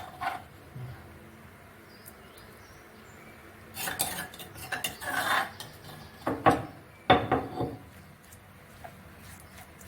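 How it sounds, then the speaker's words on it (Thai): Small fish and shrimp being mixed with curry paste in a bowl, heard as scattered scraping, clinking and wet stirring that grows busier toward the end, close and fairly quiet. "เอาเครื่องแกงมาใส่ผสมนะครับ"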